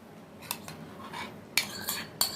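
A spoon stirs yogurt into korma gravy in a pan, giving a few soft scrapes and three sharp clinks of metal against the pan, close and alone.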